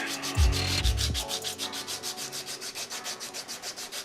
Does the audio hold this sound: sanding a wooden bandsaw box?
yes